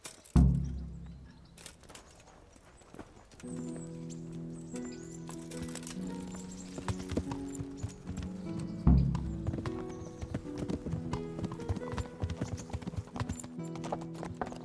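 Horse hooves clatter rhythmically in a video game, alongside a bright musical score, with a couple of heavy thumps marking the start and midpoint.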